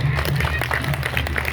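An audience at a live stand-up comedy and political mimicry show claps in a thin, scattered patter, steady and fairly quiet throughout, with a low murmur underneath.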